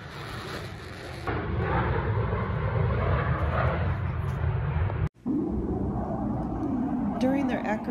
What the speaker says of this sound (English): the 6 member team flies F-18E Super Hornets